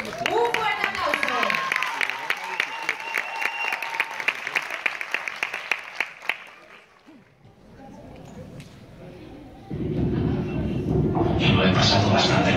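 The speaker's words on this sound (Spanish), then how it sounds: "¡Un fuerte aplauso!" An audience cheers and applauds a dance school group at a dance performance, with loud, dense clapping that fades toward the middle, followed by a quieter stretch and then a burst of music.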